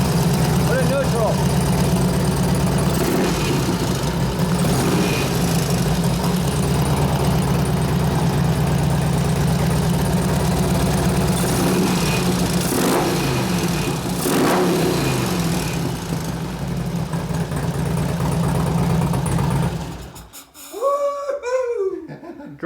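A 2004 Harley-Davidson FLHT touring motorcycle with an 88 twin cam engine idles steadily and loudly with a low rumbling pulse, then cuts off near the end as brief voices are heard.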